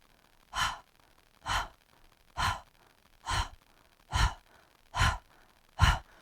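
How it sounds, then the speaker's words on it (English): A person pants through an open mouth in a movement class, seven evenly spaced, breathy bursts of air about one per second, close and clear against a quiet background. "You open the mouth and you go, I want you to feel that panting sucks the belly in."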